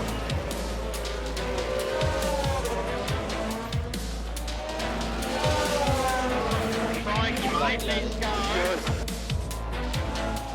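Lewis Hamilton's Ferrari Formula One car overtaking a Red Bull in a racing video game, steady loud high-revving engine whine with rapid gear-shift blips and passing roar throughout, a commentator talking over it.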